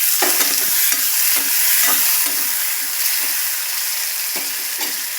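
Chopped tomato sizzles in a hot pan while dal fry is cooked, a continuous bright frying hiss with repeated scraping and stirring knocks from a utensil, close and even, with no voices.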